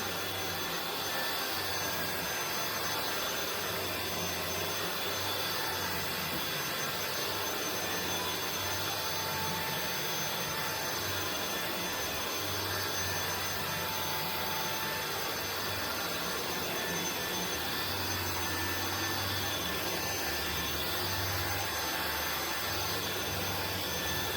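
An INSE V120 cordless vacuum cleaner runs continuously over carpet, a loud steady whirring drone with a faint pulsing low rumble as it is pushed back and forth.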